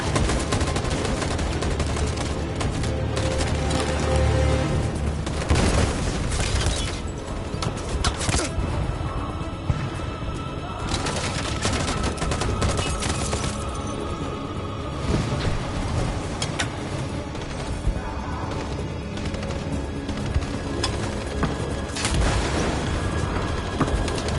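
Gunfire rattles through a Gravity Rush battle, dense continuous shots and booms with repeated bursts over roaring effects, loud and sustained for the whole stretch.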